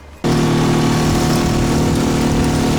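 An outboard motor on a Takacat 260lx inflatable boat fitted with a Permatrim and a cupped prop suddenly roars to life and holds a loud, steady, buzzing drone close by.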